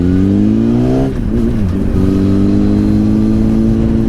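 Honda CBR 1000RR Fireblade motorcycle accelerating on a road near Pooley Bridge, a loud climbing engine whine that drops at a gear change and then pulls again, heard close over steady wind noise.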